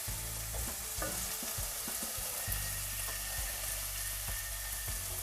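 Saltfish sizzles and sautés in a pan, a steady close frying hiss with occasional soft stirring clinks and scrapes, alone and without talk.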